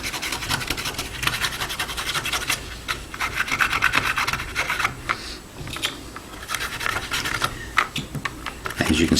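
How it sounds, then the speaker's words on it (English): Rotary grinding tool worked straight into plastic to give it a wood-grain look, a loud continuous rasping, scratching buzz that surges and drops as the bit digs in, fairly close and steady throughout. "But just grind it straight on in."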